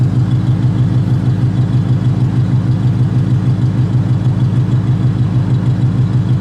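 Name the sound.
vintage car V8 engine idling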